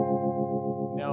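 Electric guitar through a Dunlop Univibe UV-1 pedal in modern mode, a single sustained chord with a gently pulsing, throbbing modulation, loud and close and played alone.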